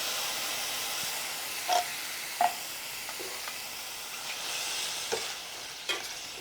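Canned mushrooms frying in a pan with a steady, soft sizzle and hiss, broken now and then by the light scrape and tap of stirring.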